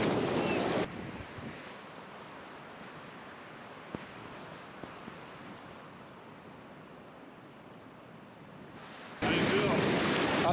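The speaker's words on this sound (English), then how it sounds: "Those waves are intense." Cold ocean waves crash on a shore, a broad, loud roar of surf that swells, eases into a steadier wash, then surges again close by, with wind buffeting the microphone.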